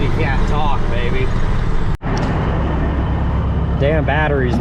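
A truck engine roars loudly and continuously near a grain elevator during bean harvest, with a brief cutout midway and voices talking over the rumble.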